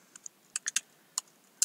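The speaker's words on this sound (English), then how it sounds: "You're going to type in your new domain name." Short bursts of typing on a computer keyboard as a domain name is entered, a handful of crisp, close key clicks in an irregular rhythm, quiet and without speech.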